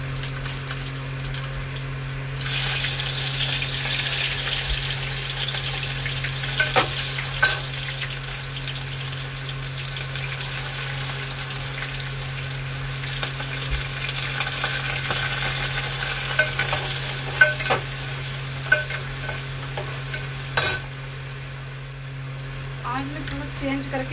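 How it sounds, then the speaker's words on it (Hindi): Aloo kachori filling frying in hot oil in a pot, a steady close sizzle with bursts of stirring and scraping throughout, rising louder after the first couple of seconds. "हमारा तेल था जो गर्म हो गया है, हम उसमें सामान डाल रहे हैं।"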